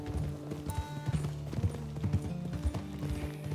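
Horse hooves clip-clopping steadily during a long ride in Red Dead Redemption 2, a close rhythmic trot with faint mechanical jingles of tack mixed in.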